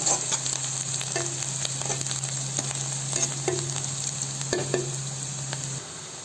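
Chicken gravy with garam masala stirred in a pan: steady frying hiss and sizzle with scattered spoon scrapes and clicks against the metal, close and continuous without any talk.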